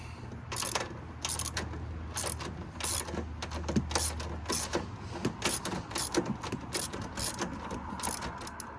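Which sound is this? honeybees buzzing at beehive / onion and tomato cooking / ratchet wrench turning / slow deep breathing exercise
ratchet wrench turning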